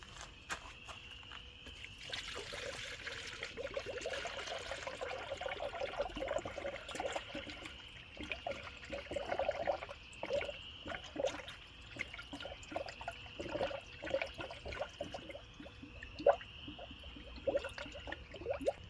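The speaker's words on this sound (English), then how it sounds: "Now go ahead and fill your radiator back up." Coolant is poured through a large funnel into a Jeep Grand Cherokee radiator during a thermostat replacement, giving quiet, uneven gurgling and bubbling that stays faint throughout.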